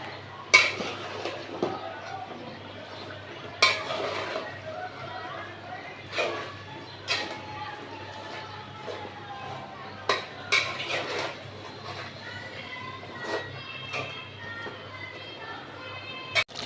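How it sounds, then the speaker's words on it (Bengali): Chicken with Malabar spinach being stirred in a pot: scattered metallic clanks and scrapes of a spoon against the pot at irregular intervals, fairly quiet, with someone talking between them. "মাংসগুলো কষানো হয়ে গেছিলো, পুঁই শাকটা দিয়ে দিব, তো লাড়াচাড়া দিয়ে দিব"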